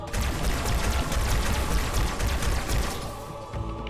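Halo 2 Anniversary co-op gameplay with heavy, continuous gunfire and dense, loud bursts of shooting that fill the whole stretch before easing slightly at the end.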